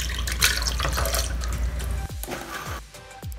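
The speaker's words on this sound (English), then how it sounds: "Pour it into the blender." Liquid for a chicken-cooling drink, with salt and buttermilk mentioned, poured into a blender as a steady splashing stream that tapers into a few gurgles and drips, close and with no one speaking.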